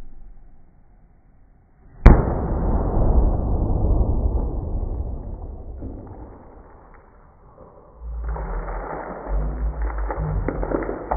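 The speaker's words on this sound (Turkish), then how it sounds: "Çok iyi oldun lan Ekin ama seninki daha iyi patladı ve sen daha çok soldun" A water balloon bursts over a player as a penalty in a quiz game, giving a sudden sharp pop followed by a long rush of splashing, pouring water that fades and then swells again, close and loud.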